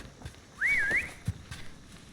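A character in the video game Sable whistles one short, wavering phrase that rises and falls, set over soft game ambience with a few faint thumps around it.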